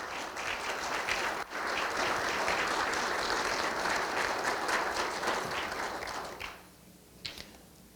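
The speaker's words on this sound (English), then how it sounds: "each of them deserve a round of applause" Audience applause at a school district's state of the schools address: sustained, full clapping from a sizable crowd that holds steady for about six seconds, then quickly fades to a few scattered claps.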